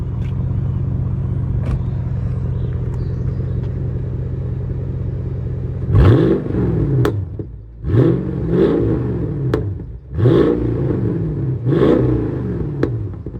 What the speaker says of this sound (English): It's got a lightly modified exhaust, which when I got it on the lift, turns out it's had both resonators cut out and the back box cut out.